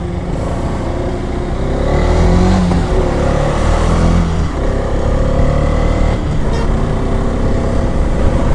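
A heavily loaded truck labors up the steep Thimbam ghat hairpin road, its engine droning low and strained close by, with the pitch shifting as it climbs for several seconds.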